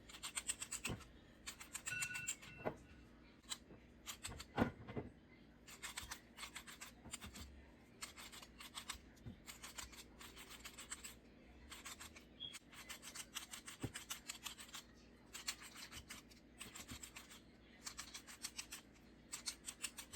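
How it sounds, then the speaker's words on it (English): Carrots being trimmed for a smoothie in a home kitchen: close, steady scraping and rasping cuts with scattered sharper snips, continuing for about twenty seconds with no talking. "I'm gonna trim this up, trim the carrots up real quick."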